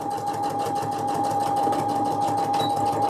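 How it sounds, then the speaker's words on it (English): A regular domestic sewing machine stitches in one continuous run, a close, steady, rapid mechanical whirr with a fine rhythmic ticking. "come sit at a regular sewing machine"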